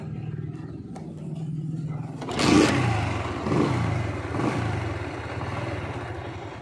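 A loaded cart pushed from behind by a motorbike on a road, the engine droning steadily and close, then revving up in a couple of swelling surges as it strains under the weight.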